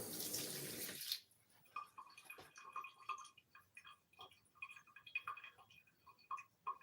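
Tap water runs over fresh basil leaves in a kitchen sink, with a steady, faint trickle and splashing broken by small irregular clicks and drips after a louder opening burst.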